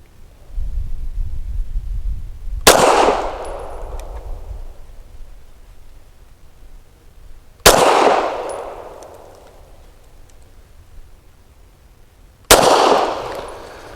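A Girsan High Power lightweight pistol fires Federal Syntec Action Pistol 150 grain rounds outdoors: three loud, sharp single shots spaced several seconds apart, each with a ringing decay.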